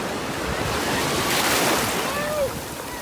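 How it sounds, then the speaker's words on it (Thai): Sea waves wash onto a beach in Japan where shellfish are gathered, a loud continuous surf rush with wind buffeting the microphone throughout. "น้ำทะเลก็มา"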